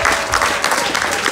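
Applause from an audience at a food festival contest, a steady dense wash of many hands clapping close by, continuous and loud with no talking over it.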